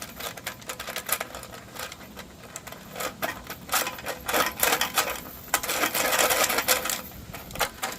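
Someone jiggles a 1987 Harley-Davidson Sportster gas tank to shake loose debris and cleaning material out of it, producing a steady run of close rattling, clattering bursts that swell louder toward the end.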